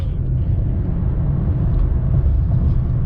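A Honda Clarity hybrid cruises on its gas engine in overdrive lockup while charging the battery, heard from inside the cabin as a steady, loud low drone and rumble with no change in pitch.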